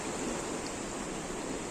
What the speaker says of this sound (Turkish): Bu Aygır Şelalesi tarafından gelen su.